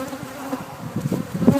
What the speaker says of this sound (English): Bees have gotten a little punchy